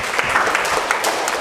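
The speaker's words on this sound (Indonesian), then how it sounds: "Tepuk tangan dong buat Bu Nara." Audience applause at a talk on effective communication: a dense, steady round of clapping from a sizable crowd holds at full strength from start to finish.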